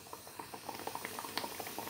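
Thick jackfruit paste bubbles and pops while being stirred over a charcoal stove, a quiet, close run of irregular soft plops and blips.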